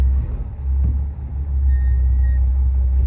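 A Chrysler car with Fluid Drive transmission pulls away from idle, its low engine rumble steady and close, swelling slightly as it gets moving, with no talking.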